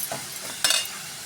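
Onions sautéing with rock salt in a pan for kaalan biryani, a soft steady sizzle close by, broken once by a short sharp stirring scrape.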